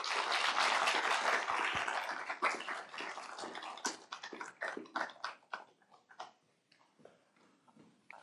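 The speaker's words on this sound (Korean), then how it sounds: "큰 박수로 모시겠습니다." An audience at a Korean university presidential inauguration ceremony applauds loudly. The clapping is dense at first, then thins into scattered individual claps and fades out over several seconds.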